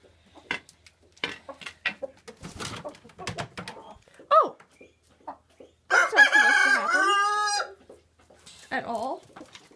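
A rooster crows loudly and close by in one long, strained cock-a-doodle-doo, preceded by assorted clucks, rustling and handling noises, with another short call trailing at the end.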